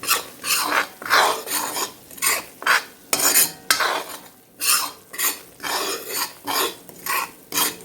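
Beef chunks with spice powder are stirred in a pan, giving loud, rhythmic rasping scrapes, roughly one stroke every half second, close up with no talk.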